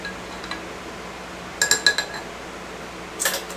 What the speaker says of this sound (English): So I'm going to stir that together.